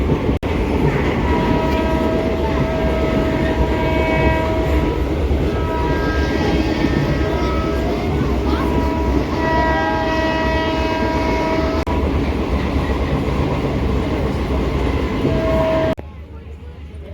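A passenger train runs near Dhalgaon station with a constant loud rumble and wheel clatter, while long horn blasts sound twice. The noise drops suddenly near the end.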